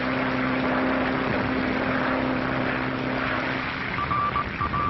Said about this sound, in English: piloting his plane through terrific storms across the Atlantic Ocean